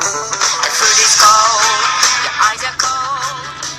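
Song played through a phone speaker, a loud, bright, slightly compressed mix of music heard up close and alone.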